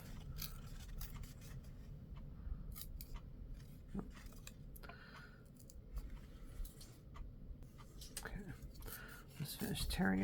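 A sheet of Designer Series paper is torn in half by hand at a card-making table, giving a close, rough, crackling rip that stretches across several seconds and swells louder near the end.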